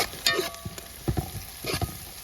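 Onion, ginger and green chilli sauté in a pan for chicken kurma, with a soft background sizzle broken by a few scraping stirs of a spoon, fairly close and fairly quiet.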